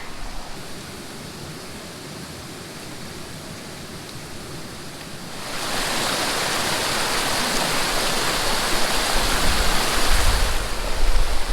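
Water flows steadily along a small trout creek as a dense, continuous rush that grows noticeably louder and fuller midway, with no voices.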